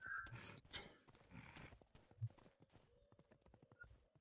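Horse hooves clip-clop in a steady rhythm while riding in the medieval video game Rustler, quiet and somewhat distant under other game sounds, with no one talking.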